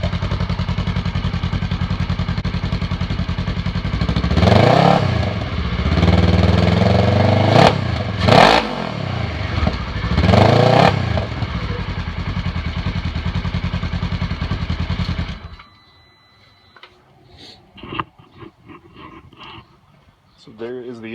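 Polaris RZR 900 S engine fitted with a Yoshimura slip-on exhaust, a loud steady idle broken by several sharp throttle revs, then the engine cuts off, leaving faint clatter and movement.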